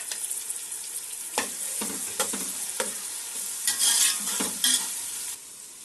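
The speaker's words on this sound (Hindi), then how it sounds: "1 टेबल स्पून के करीब अदरक लहसुन का पेस्ट शामिल करेंगे और इसको भी इसमें भून लेंगे।" Ginger garlic paste sizzles in hot oil in a pan for a home-style kadhi pakora, with a spoon scraping and stirring in irregular strokes over a steady close frying hiss.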